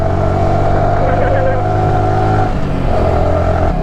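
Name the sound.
motorcycle engine revving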